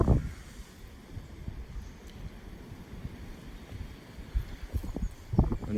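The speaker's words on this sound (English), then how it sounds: "It is quite windy." Gusty wind blowing outdoors across a cemetery among spring trees, a steady low rumbling buffet on the microphone with stronger gusts near the end, no talking.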